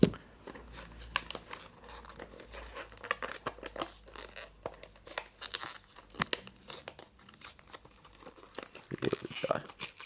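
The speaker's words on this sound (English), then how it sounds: "It looks like this lid is glued in, so I'm gonna get the scissors" Scissors snipping and crinkling through the glued cardboard lid of a My Little Pony card game box, a close run of sharp cuts, crackles and paper tearing noises with scattered louder snaps, no talking.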